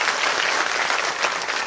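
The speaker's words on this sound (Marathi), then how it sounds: "त्यांच्यासाठी आपण जोरदार टाळ्या वाजवा" A crowd at an outdoor memorial statue unveiling for Ahilyadevi Holkar in Nashik claps loudly and steadily in a brief, dense burst of applause.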